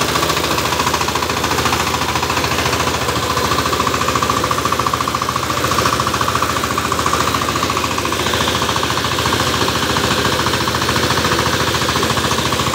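A Sifang 25 hp diesel engine on a 28-blade power tiller runs close and loud, with a steady, rapid knocking rumble and no talking.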